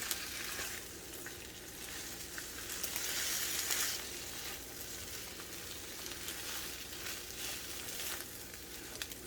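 Noodles and eggs with soy bean sprouts sizzle steadily in a hot pan as they are folded over, a continuous close frying hiss with stirring scrapes and no talk.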